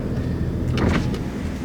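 Power windows lowering in a 2019 Ford Expedition Limited, a brief whirring motor sound rising over the cabin's steady low engine and road hum.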